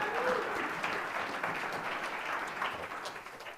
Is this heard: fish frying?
no